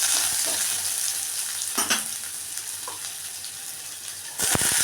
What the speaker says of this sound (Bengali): আলুগুলো দিয়ে দিলাম, পেঁয়াজটা হালকা ভেজে নিয়ে লবণ হলুদ দিয়ে দিচ্ছি